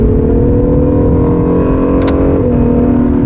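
Acura NSX engine revving in a rev-matched gear shift, a loud steady drone with layered harmonics that dips in pitch partway through, briefly broken by a short whir, with no talking.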